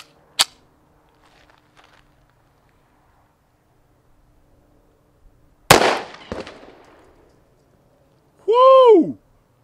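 Pistol shots from a SIG P220 Elite 10mm firing Buffalo Bore 180-grain rounds at an outdoor range: a sharp crack early, a louder booming shot with echo later, then a person's whooping voice.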